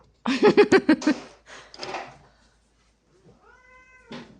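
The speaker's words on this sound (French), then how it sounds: "Ouh, il est pas content, le chat. Vous avez entendu?" A cat meows in a string of short, insistent, unhappy cries up close, followed by a softer whine and a later drawn-out tonal call, with quiet gaps between.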